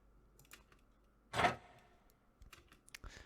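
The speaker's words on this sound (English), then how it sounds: "A nice like squeaky grind." A squeaky metallic grind from a redesigned Reinhardt sound effect, one loud rasping burst in the middle with scattered small clicks and scrapes before and after, close and without speech.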